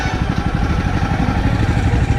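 A motorcycle engine runs steadily at a hospital parking gate, a continuous loud mid-range rumble with rapid pulsing that stays close throughout, without talk.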